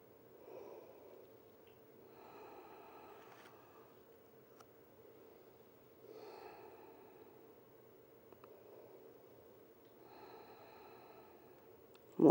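Slow, quiet breathing during a gentle yoga flow, soft inhales and exhales repeating every few seconds in an otherwise hushed room.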